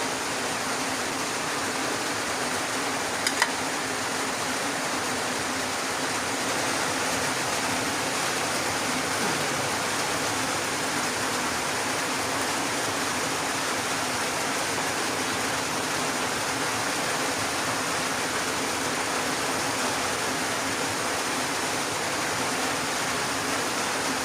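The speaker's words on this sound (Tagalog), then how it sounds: "Kahit malakas ang ulan." Heavy rain falls steadily and loudly outdoors in the Philippines, a dense, continuous wash of noise that lasts throughout with no voices.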